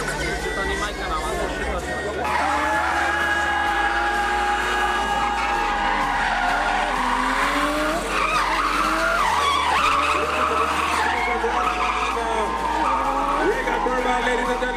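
A car skids through a motorsport competition run, with long wavering tire squeals over a steady engine drone and crowd noise in the background.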